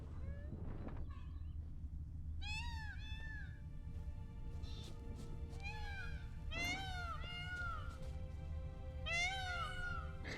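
Peacocks in The Witcher 3 give shrill, cat-like wailing calls in a few separate bursts, some doubled, over a steady low ambient rumble.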